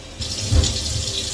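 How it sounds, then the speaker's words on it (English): Water from a touch-activated faucet on a kitchen island sink starts running and splashes steadily into the basin, close and moderately loud, for a short burst. "can touch it and get the water started"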